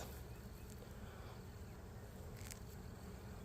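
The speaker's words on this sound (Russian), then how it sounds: "Пчелки, смотрите, гоняют." Bees buzz around beehives at an apiary, a faint, steady insect drone throughout with no talk.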